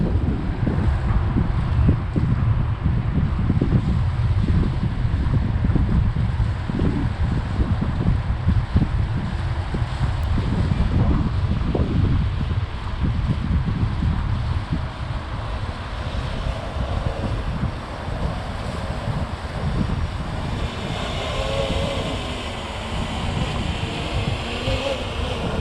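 Strong gusts buffet a Zino 2 drone flying in very windy conditions, a loud, continuous roar of wind noise rumbling low and heavy throughout with no pause.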